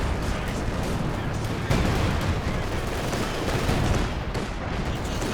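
Dense, continuous battle noise from Company of Heroes 2 with sustained machine gun fire, loud and unbroken throughout, mixed with other gunfire and explosions under a fairly even roar.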